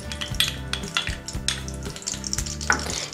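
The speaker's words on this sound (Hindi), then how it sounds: "थ्री टेबल स्पून हमारा ऑयल था अब इसके अंदर हम अपना चिकन का कीमा ऐड कर देंगे और इसी के साथ इसमें जिंजर गार्लिक पेस्ट भी ऐड कर देंगे" Chicken mince and ginger garlic paste sizzle in three tablespoons of oil for a Chinese-style samosa filling, a steady close fry punctuated by scraping stirs against the pan, with no voices.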